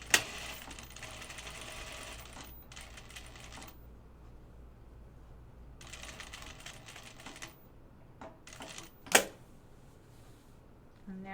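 A sewing machine top stitches fabric for an ornamental flag in several runs of rapid, even mechanical chatter separated by pauses, with a few sharp clicks in between.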